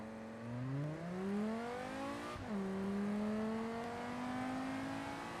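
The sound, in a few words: Audi S8 accelerating and shifting in video game BeamNG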